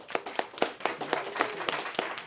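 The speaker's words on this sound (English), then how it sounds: "Give me another clap." Several people at a community meeting clap in a quick, fairly even rhythm, the sharp individual claps close and distinct rather than a dense roar, lasting only a couple of seconds.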